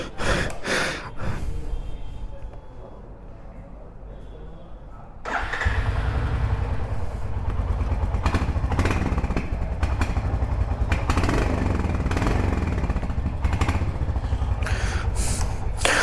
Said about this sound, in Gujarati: હવે ટાઈમ થઈ ગયો છે આનો એક્ઝોસ્ટ નોટ સાંભળવાનો